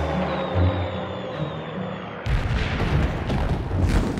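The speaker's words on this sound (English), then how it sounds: "the airstrip is blowing up and being strafed by German" Bombing and strafing of a WWII airstrip by German fighters: a continuous roaring rumble of explosions and gunfire that abruptly surges louder partway through, dense and chaotic with no clear gaps.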